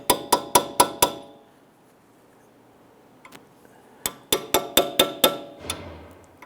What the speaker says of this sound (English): In order to remove our spindle nut cap, I'm going to use a chisel tip.